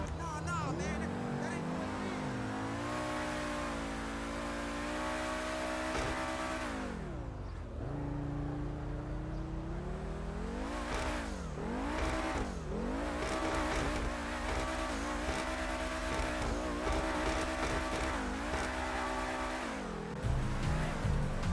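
Ubermacht SC1, a BMW M1-based car in a video game, revs hard with its engine pitch sweeping up and down in repeated surges, then drives on with a steady, loud engine drone and rising and falling tones.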